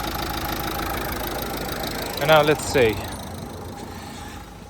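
A Dacia Duster's engine with a fault idles steadily at close range, a constant mechanical hum under a short burst of speech.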